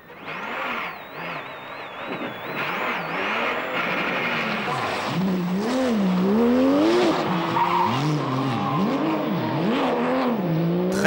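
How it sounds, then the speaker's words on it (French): A Porsche GT3 race car slides around the snowy Spa-Francorchamps circuit during the 2006 Ardennes Bleu rally, its engine rising and falling in rapid revs with drawn-out tire squeal, loud and close, growing stronger toward the end. "sur le circuit de Spa-Francorchamps enneigé, tout en glisse avec la GT3"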